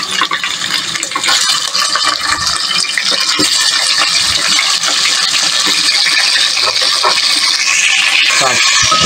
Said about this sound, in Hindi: 1 कटोरी पानी लेके ये डालें